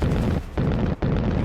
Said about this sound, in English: vehicle explosion destroys those pipes and pumps, and you don't get them back.